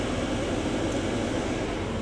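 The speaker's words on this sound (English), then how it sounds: "So it's got a great air conditioning and heating system." Steady, loud broadband rush of air from the air conditioning fan on high inside a 2003 Ford ambulance built by Wheeled Coach, a constant whooshing blower noise with no breaks.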